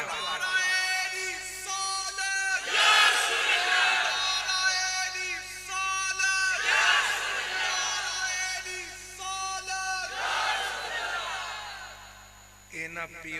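At a Milad religious gathering a large crowd shouts the Nara-e-Risalat slogan in call-and-response, loud swelling chants rising in several waves with a leader's voice between them.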